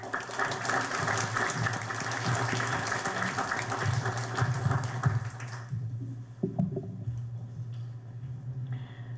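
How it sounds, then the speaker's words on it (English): A ceremony audience applauds to welcome UNESCO's Director General at the 60th anniversary celebration of Korea joining UNESCO. Sustained, even clapping fills a hall for nearly six seconds, then cuts off, leaving faint room noise and a few scattered sounds. "Let us welcome her with a big applause."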